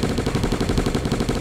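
Turret gunfire in the Zombie Battlefield Survivors video game rattles in a rapid, steady stream of close, loud shots with no pauses.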